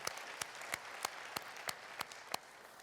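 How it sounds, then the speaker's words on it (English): Medical imaging congress audience clapping after a gold medal presentation, fairly faint and distant, with a few sharp individual claps standing out at regular intervals over the soft wash. "a last applause."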